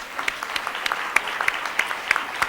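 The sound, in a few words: audience applause after lecture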